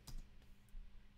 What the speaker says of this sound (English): you would type in